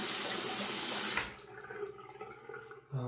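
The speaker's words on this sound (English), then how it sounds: "I'm going to go ahead and wet the razor" Tap water runs loudly for just over a second while a single-edge Valet Autostrop razor is wetted, then cuts off, leaving faint handling clinks and a soft thump near the end.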